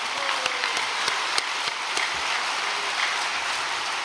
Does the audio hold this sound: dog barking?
no